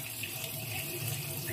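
Warm water is poured into the drain holes of a kitchen sink. A short, steady, fairly faint splashing trickle runs throughout with no voices.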